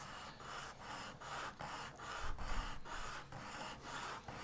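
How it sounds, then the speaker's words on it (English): Rhythmic back-and-forth sanding strokes on a scratch-built plastic model part, roughly ten even rasping passes, close and steady, with no voices. "More sanding is always the solution"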